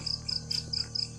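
Crickets chirp in a steady, rapid series of short high trills repeating at even intervals, moderately loud against a faint low background hum.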